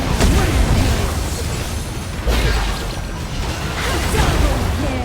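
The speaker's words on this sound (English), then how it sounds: "Your team has destroyed a turret." Turret being destroyed in a multiplayer battle video game: several loud, crunching explosions with whooshing debris land about two seconds apart over a constant din of combat, with a voice faintly present.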